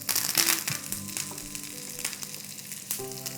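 Mustard seeds, fenugreek seeds, ginger, garlic and curry leaves hitting hot oil for a buttermilk moru curry, crackling and spitting in a lively close sizzle with faint stirring, no voices.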